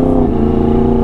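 A 2016 Yamaha R1 60th anniversary sport bike with a full aero exhaust holds a loud, steady engine drone at close range, deep and continuous with no voices.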